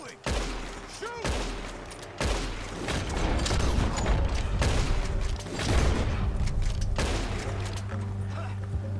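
Red Dead Redemption 2 gunshots: several loud, separate blasts spaced a second or two apart over a rumbling outdoor background, with voices speaking in between.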